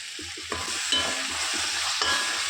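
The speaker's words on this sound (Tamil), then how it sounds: "இப்போ கருவேப்பிலை சேர்த்துக்கலாம்." Curry leaves hit a hot pan of softened tomato and are stirred, producing a loud, bright sizzle with scraping spoon strokes and a fresh burst of spitting partway through, with no talking.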